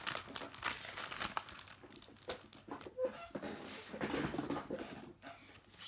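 Crinkling, crackling plastic sounds as a circle is cut out of a thin acetate sheet, close and continuous, with small snips and rustles.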